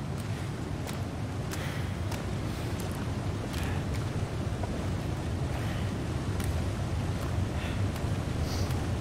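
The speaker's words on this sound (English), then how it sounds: "Very windy here." Steady broadband wind rushes and buffets the microphone without pause in The Long Dark, near a waterfall, a constant roaring hiss with a few faint ticks on top and no talking.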